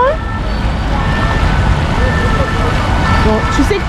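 Emergency sirens wail through busy Paris street traffic, a faint wavering tone over a dense rumble of engines, with people talking nearby.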